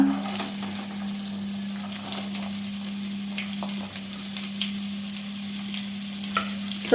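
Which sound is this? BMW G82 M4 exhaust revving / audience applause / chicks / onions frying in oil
onions frying in oil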